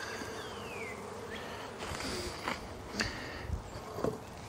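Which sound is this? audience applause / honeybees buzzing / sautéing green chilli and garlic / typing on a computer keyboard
honeybees buzzing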